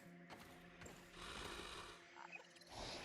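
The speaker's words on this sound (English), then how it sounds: "Whatever's snoring sounds like it's in here." A creature snores inside a den in the Grounded video game, slow rasping breaths rising and falling over a low murmuring ambience, moderately close and fairly quiet.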